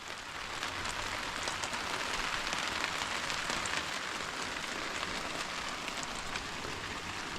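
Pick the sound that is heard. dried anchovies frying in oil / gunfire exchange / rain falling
rain falling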